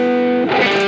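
Electric guitar run through a Headrush MX5 multi-effects unit switches into its distortion mode, a sustained chord turning gritty and thick halfway through, loud and close with no voices.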